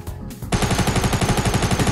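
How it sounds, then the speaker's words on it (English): Rapid hunting-rifle gunfire in Fortnite Battle Royale, a loud burst of evenly spaced shots that starts abruptly after a short quiet moment and continues without pause. "I'm using a hunting rifle anyway."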